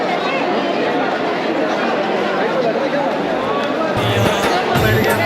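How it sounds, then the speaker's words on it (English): A huge crowd chatters and murmurs in a packed stadium at the Attari–Wagah border ceremony, a dense, loud babble of many voices with low thumps near the end, and a nearby person speaks over it. "Huge crowd."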